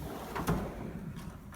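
A drawer on a Snap-on KRL toolbox slides open or shut, a soft brief metallic rumble with a faint clack, heard quietly and close with no talking.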